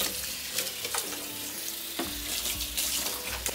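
Water from a tap runs and splashes while a fridge is being cleaned and rinsed, a close, steady hiss of running water with a few knocks and clatters of items being handled.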